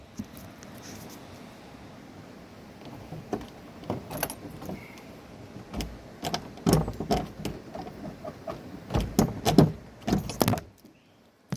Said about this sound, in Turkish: Şöyle kilidi çekmemiz lazım.